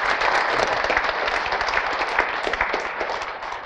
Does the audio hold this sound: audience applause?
yes